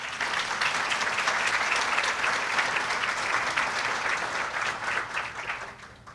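Guests at a diversity chamber annual luncheon and expo applaud representatives of national chambers, dense steady clapping for around six seconds that fades toward the end.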